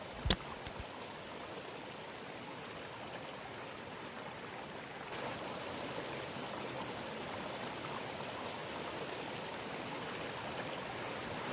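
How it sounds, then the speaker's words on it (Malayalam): A clear, cold river flows over stones at Kottapuzha near T K Colony in Nilambur, making a steady, close rush of water with one brief knock near the start. No one speaks. "മനോഹരമായ കല്ലുകളെ തഴുകിയൊഴുകുന്ന തണുത്ത് തെളിഞ്ഞ ജലം ഈ പുഴയുടെ മറ്റൊരു പ്രത്യേകതയാണ്"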